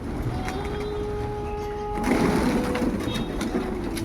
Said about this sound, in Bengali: আজকে অনেক পায়রা